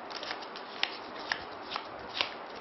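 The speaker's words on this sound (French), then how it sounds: "Vous mélangez normalement." Playing cards are shuffled for a magic trick, a soft continuous riffling with a few sharper snaps, quiet and close, with no voices.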